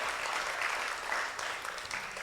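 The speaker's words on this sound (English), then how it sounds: "I'll give a big applause" A room full of people clapping after a presentation at a plant conservation symposium, steady dense applause that holds at an even level throughout.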